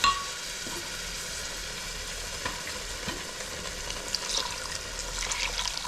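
A pan of egg and dried fish curry bubbles and sizzles softly and steadily, with faint watery gurgles and a few light stirring taps, close by.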